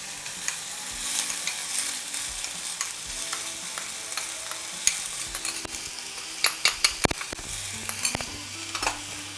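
Tomato and onion fry in oil in a pan with a quiet, steady sizzle, while a spoon scrapes and taps against the metal several times, sharper near the end.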